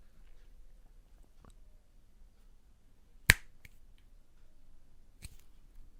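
A single sharp finger snap cracks out close and loud in an otherwise quiet room during a coin magic trick, with a couple of faint clicks before and after.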